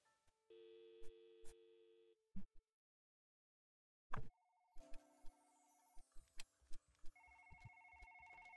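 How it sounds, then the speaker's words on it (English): A telephone rings in the video game Dream: bursts of electronic ringing tones that stop briefly and then return, with short clicks and other synthetic game sounds between them and no talking. "we're gonna be listening for some phones ringing, basically"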